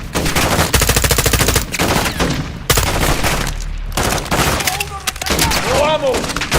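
Rapid machine gun bursts in a GTA 5 firefight, loud rattling volleys broken by short gaps, with shouted voices between and over the shooting.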